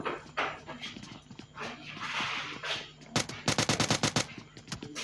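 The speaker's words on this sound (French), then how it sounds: "On voit les balles passer." Gunfire in the mobile battle royale game PUBG Mobile Lite during a tournament final, with a rapid burst of sharp, loud shots near the end following busier game sounds and a voice talking under the action.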